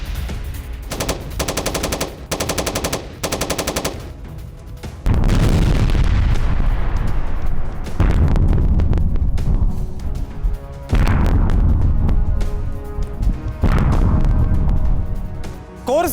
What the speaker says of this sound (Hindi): रूसी टुकड़ी पर यूक्रेन की भीषण बमबारी